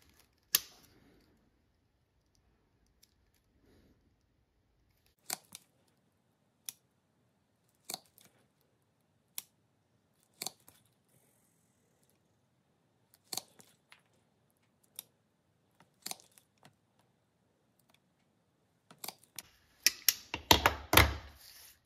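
A quarter inch hole punched through a leather belt in a workshop, heard as a series of sharp, isolated clicks and taps spaced a few seconds apart, ending in a denser cluster of clattering knocks.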